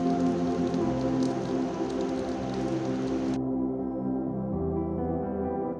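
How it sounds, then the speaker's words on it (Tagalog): Steady rain drums on a roof, a dense continuous patter with a low rumble beneath; the bright hiss drops away partway through while the pattering carries on. "Ang tunog ng ulan sa bubong"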